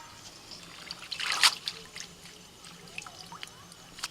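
A bunch of leafy greens gets rinsed under a running tap, with a soft trickle of water and a brief louder splash midway, faint and close, with no voices.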